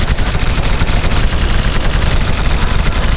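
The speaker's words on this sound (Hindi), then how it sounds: "उधर से ज्यादा फायरिंग आ रही है। पहले उस मशीन गन को बंद करो" Cartoon battle scene with machine gun fire and gunshots: a loud, continuous dense rattle of rapid bursts filling the whole span without pause.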